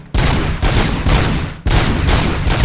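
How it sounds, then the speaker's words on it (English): Heavy gunfire in RoboCop: Rogue City, three loud sustained bursts of shots separated by brief gaps, close and dominant. "I shoot it, then it comes closer to me."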